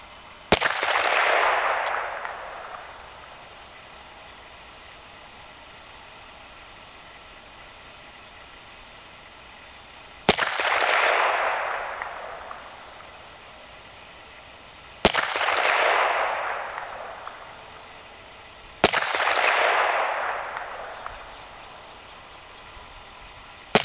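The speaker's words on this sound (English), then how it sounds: "I'm going to be firing slowly in single action from just 10 yards." A .44 Magnum revolver firing heavy 405-grain bullets slowly in single action at a 10-yard range: four loud, sharp shots spaced several seconds apart, each trailing off in a broad echoing boom over quiet background.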